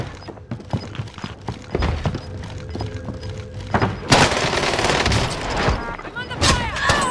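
Bursts of rapid gunfire and booms in a shooter video game, scattered shots early then a loud sustained volley of automatic fire, with game sounds and voices mixed in.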